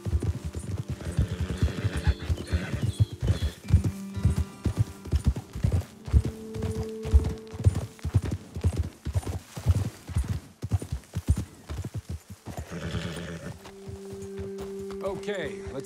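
Horses in the Red Dead Redemption 2 video game, with a steady clip-clop of hooves on the ground, close and rhythmic, and brief neighs between the steps. Voices talk over the hoofbeats.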